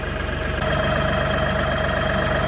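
A New Holland Workmaster 40 tractor engine idles steadily while warming up, a close, even, low chugging hum with no talk over it.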